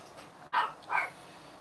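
A dog gives two short barks in quick succession, heard at moderate distance in an otherwise quiet room.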